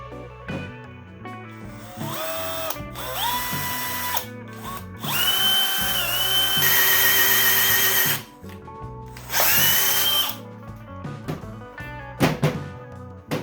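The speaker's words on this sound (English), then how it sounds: "Hopefully I can drill this pretty straight." A power drill fitted with a hole saw whirs in several bursts, spinning up and winding down as it bites into material, with occasional rattling between runs.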